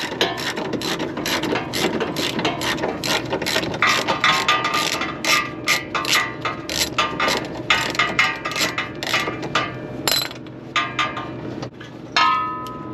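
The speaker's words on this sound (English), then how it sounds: "That one unbolts pretty easily." A ratchet wrench loosening a 13 mm exhaust bolt on a Dodge Challenger 6.4, rapid close clicking bursts in quick repeated strokes, with a few metallic clinks near the end.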